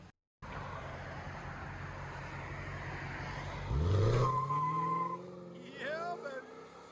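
Lexus GS second-generation V8 sedan pulling away outdoors, a steady engine drone rising into a louder revving surge with brief tire noise near the middle, then easing as the car recedes.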